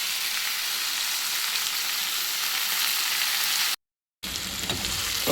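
Ivy gourd sautéing in a pan over a medium flame, a continuous dense sizzle that cuts out briefly near the end before resuming.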